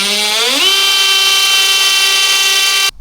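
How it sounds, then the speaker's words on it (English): A power drill bores through spot welds on the front end of a BMW E36, its motor spinning up with a rising whine and then holding a loud, steady high-pitched drone for about two seconds before abruptly stopping. "I gotta drill the spot welds"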